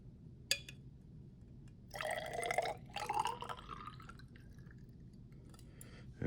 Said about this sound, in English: we want to try and put some water in this